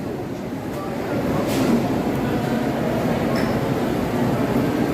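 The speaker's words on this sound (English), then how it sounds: "here's a train going to Stamford, Connecticut" Commuter train bound for Stamford, Connecticut, idling at a track inside a busy station concourse, a steady low rumble with faint clinks and crowd murmur throughout.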